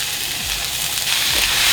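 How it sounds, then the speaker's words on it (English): Sliced shallots sizzling in a skillet with oil for a mushroom and shallot tart, a continuous close hiss that brightens and swells toward the end. "I'm going to add the shallots to a skillet."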